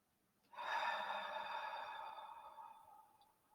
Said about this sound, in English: So just one more nice deep breath.